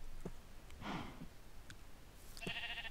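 Sheep in the video game Minecraft bleat faintly a few times in short, scattered calls over low background game ambience.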